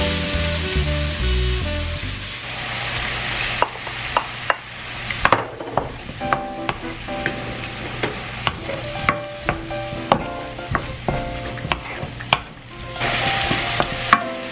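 Garlic fries in a wok, with a steady sizzle running under a string of sharp metallic scrapes and taps as it is stirred and tossed, close and fairly loud. There is no speech.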